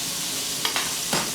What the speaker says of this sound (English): They'll sizzle. That means that they're happy pieces of chicken.